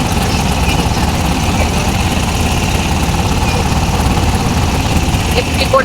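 A steady, loud idling engine drones and vibrates throughout, close and unchanging, with no pauses.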